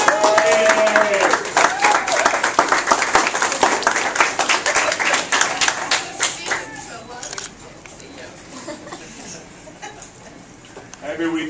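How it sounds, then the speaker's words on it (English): Applause and cheering at a Relay For Life committee event honoring a youth chair, energetic clapping mixed with excited voices and children, loud at first then fading into scattered claps and chatter. "Let's give Abby a round of applause"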